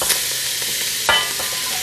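Beef being stirred in a soup pot with salt, a steady broadband sizzle-like hiss running throughout with a single louder scrape of the spoon partway through.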